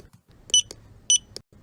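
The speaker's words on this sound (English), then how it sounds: "the computer beeps as the books slide across the counter" A library computer at the checkout counter beeps as books are scanned: three short, bright electronic bleeps spaced roughly half a second apart over a faint background.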